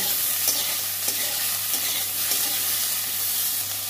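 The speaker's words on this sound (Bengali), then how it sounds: "সামান্য লবণ দিয়ে ভেজে নেব।" Okra frying in a pan with a little salt, a continuous close sizzle and hiss with faint stirring scrapes against the pan. No one speaks.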